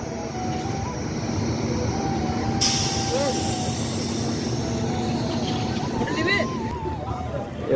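A train rumbles steadily through Bardhaman railway station near an old overbridge under reconstruction, with a continuous loud roar, a sudden hiss of higher noise partway through and faint wheel squeals, while voices talk over it.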